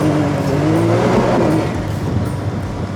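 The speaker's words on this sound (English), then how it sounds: "I don't know if you could hear the turbo flutter like we can in the car" A turbocharged Can-Am X3 XRC Max Turbo RR side-by-side driven on a dirt detour, with a loud, steady engine roar heard from inside the vehicle and no turbo flutter clearly standing out.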